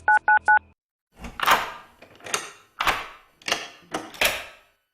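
Three quick dual-tone telephone keypad beeps open a TV law office ad, crisp and close, followed by a voice speaking in short phrases.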